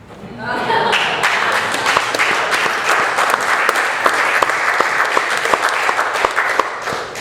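An audience claps after a poetry reading, with loud, dense applause building within the first second and continuing steadily throughout.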